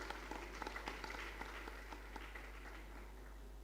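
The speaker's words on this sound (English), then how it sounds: "A round of applause." Scattered applause for graduates at a St John Ambulance EMT graduation ceremony, a modest crowd clapping fairly faintly and steadily under a constant low hum, thinning slightly toward the end.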